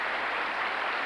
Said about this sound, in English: Give them a nice, welcoming round of applause.